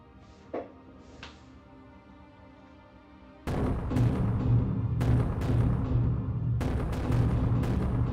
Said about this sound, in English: Now I have to return to the camp and detonate it